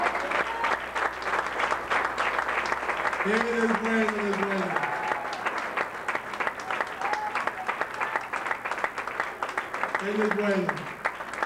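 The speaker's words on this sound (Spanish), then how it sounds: "¿Se merece el Rey un fuerte aplauso?" A church congregation applauds warmly and steadily, a dense wash of clapping that runs the whole time, while voices chant and sing over it in two short bursts.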